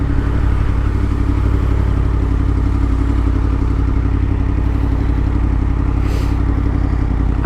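Motorcycle being ridden, a loud, continuous close engine drone with rushing wind and rattle, steady throughout with no speech.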